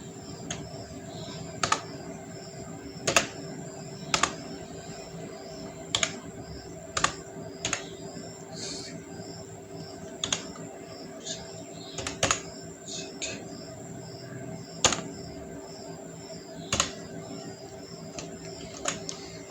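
Keys tapped steadily on a computer keyboard while HTML code is written, a continuous close run of light clicks with sharper spaced key strikes every second or two, no talking.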